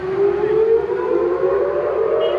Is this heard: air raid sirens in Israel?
yes